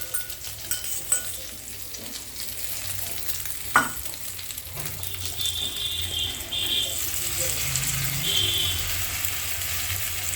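An egg omelette frying and being stirred at a busy stall at the Rash fair, with steady sizzling, occasional metallic clinks and scraping, and a louder rattle partway through, with no talk over it.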